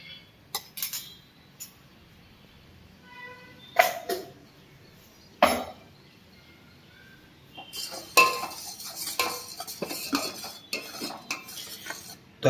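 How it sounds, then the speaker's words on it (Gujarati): A metal spoon adds half a spoonful of homemade masala to thick, rich Rajwadi masala chai and stirs it, giving a few sharp clinks against the pot spread across the clip, then a busier run of scraping and clattering toward the end. "તો આપણે જે મસાલો બનાવ્યો હતો એ અડધી ચમચ નાખી દઈએ છીએ"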